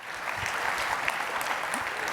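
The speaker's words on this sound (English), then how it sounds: "give her a big round of applause." Crowd at a leadership luncheon giving a round of applause, a fairly quiet but steady wash of many hands clapping that carries on without pause and with no voices over it.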